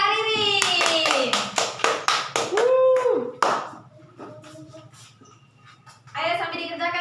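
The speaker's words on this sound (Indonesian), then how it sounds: "tepuk tangan untuk Kak Ririn." A classroom gives a student a round of hand clapping, a burst of sharp claps for about three seconds, followed by a teacher's voice talking.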